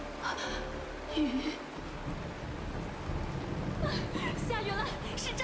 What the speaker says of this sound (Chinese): 下雨了，是真的。